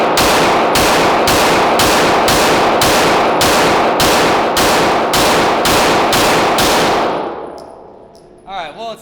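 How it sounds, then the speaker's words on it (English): Rapid string of about a dozen loud, evenly spaced pistol shots fired with Prometheon industrial ammunition, ending abruptly in quiet with a faint ringing clink afterward. "Oh, you want me to shoot your pistol?"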